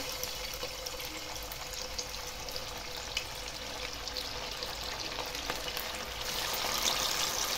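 Chicken pieces frying in hot oil over low-to-medium flame, a steady close crackling sizzle that swells louder toward the end, with no talking.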